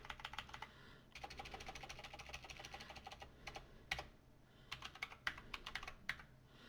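Keys clatter on a computer keyboard in quick bursts of close, crisp clicks, separated by short pauses, with no speech.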